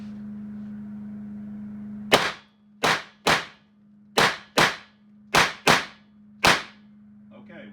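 An AEA BW S45 mini .357 air rifle, filled to 4,500 PSI and shooting 125-grain projectiles, fires eight sharp, loud cracks at uneven intervals of under a second, with a steady low hum running underneath throughout.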